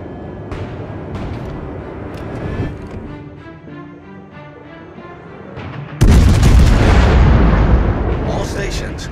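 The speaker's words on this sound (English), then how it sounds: "Concentrate fire on the enemy warship." Main battery guns of the cruiser Anchorage in the World of Warships naval video game: scattered booms under ambient battle noise, then a loud heavy salvo crashes in about two-thirds through and rumbles on; no voices.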